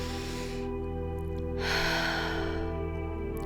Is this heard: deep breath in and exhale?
yes